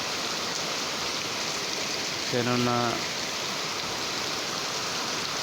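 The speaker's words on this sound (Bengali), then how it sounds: "প্রচুর বৃষ্টি হচ্ছে" Heavy rain pours down in a steady, dense hiss, with a person briefly speaking partway through.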